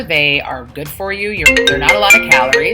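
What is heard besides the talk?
phone ringing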